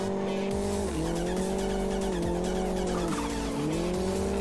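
A car drifting in iRacing, tires squealing in long wavering tones that dip and rise with each slide, engine droning steadily underneath, loud and continuous throughout.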